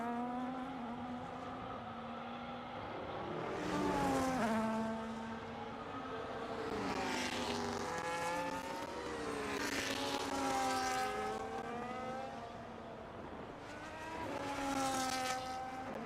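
F1 race cars in the F1 25 game at the Mexican GP, engines revving up and down through gear changes, the note rising and falling as a car slides through the esses, loud and steady with no talk.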